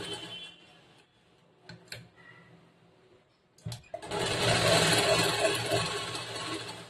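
A sewing machine stitching blouse lining fabric starts up after a few faint clicks and then runs in a steady, fairly close mechanical whir for the last three seconds.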